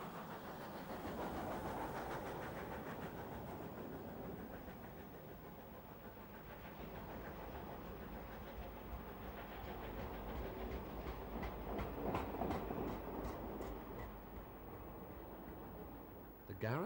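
A South African Garratt steam locomotive hauls a train, rumbling steadily along the track with clattering wheels and engine noise, continuous and fairly close, with faint voices underneath.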